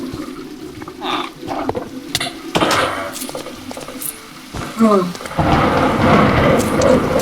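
Rain and rolling thunder in the Minecraft video game, a steady wash of rainfall with several sharp thunder cracks and rumbles, loud and close, growing denser toward the end.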